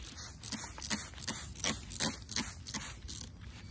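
Garden plants are sprayed with BT from a hand sprayer outdoors, giving about ten quick, evenly spaced spritzing bursts, each a short hissy puff close to the microphone.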